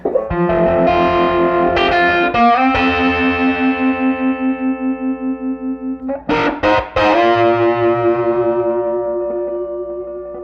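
An electric guitar plays through a vintage Magnatone 480 amp with vibrato on, sustained chords pulsing in a steady wavering rhythm, loud and close, with a fresh strummed chord midway.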